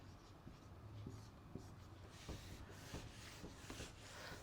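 Pen strokes scratch and rub steadily across paper as figures are written out by hand, soft and close, with a quiet voice murmuring underneath.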